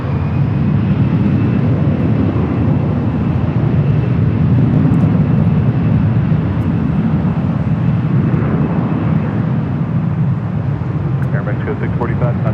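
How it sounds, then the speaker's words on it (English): A Virgin Atlantic airliner, Flight 141 from London Heathrow, lands on runway 24 right at LAX, a loud sustained low jet roar heard at a distance, with a voice talking over it. "Virgin Atlantic Flight 141 coming in from London Heathrow."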